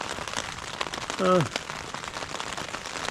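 Rain patters steadily on a surface in Jotunheimen, Norway, near Gjende, with a brief harmonic call or squeak cutting through near the middle.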